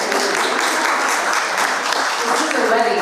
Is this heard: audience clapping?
yes